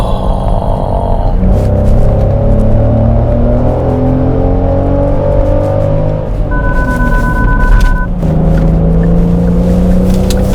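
A Genesis GV70 engine drones loudly with shifting pitch, dropping and rising as gears change while downshifting, with a brief blip of revs between shifts.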